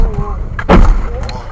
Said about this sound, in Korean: 분기점 바로 앞에서 사고가 나고 말았는데요